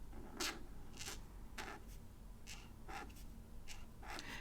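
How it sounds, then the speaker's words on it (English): A Tombow dual brush pen is stroked across planner paper in short, separate scratchy strokes with small pauses between them. The sound is soft and close, with no talking. "here is the big guy, the Tombow dual brush pen"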